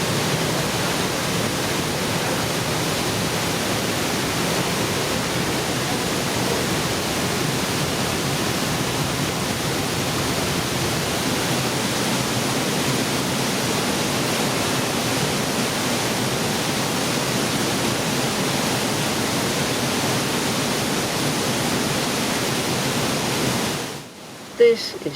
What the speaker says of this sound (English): The waterfall is about 80 metres high and crashes down into the narrow gorge.